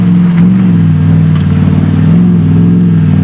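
A deep, throbbing 6-litre Chevrolet V8 in an off-road vehicle rumbles loudly up close, its low idle pulsing with slight rises in pitch, steady throughout with no voices.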